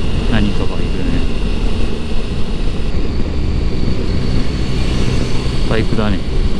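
A motorcycle closing in from behind on a dark road during a riding tour, its engine a loud, steady drone that rises toward the end, with people talking over it.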